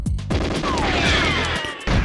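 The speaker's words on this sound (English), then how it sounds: "I've shot you so many times." Gunfire in an N64 video game played on an Analogue 3D console, loud, dense rattling bursts of shots with whizzing effects sustained across the moment, with no voices heard.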